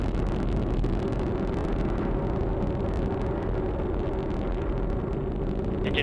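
An Atlas V rocket in flight shortly after launch gives a steady, dense, distant rumble that roars on unchanged without any talk over it.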